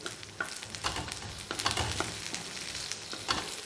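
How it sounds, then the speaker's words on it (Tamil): Onions sautéing in a pan with a soft, continuous sizzle, broken by irregular scraping and clattering strokes of a spatula stirring them, fairly quiet and close. "இது கொஞ்சம் வெங்காயம் வதங்கட்டும்"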